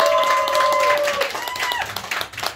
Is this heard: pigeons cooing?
no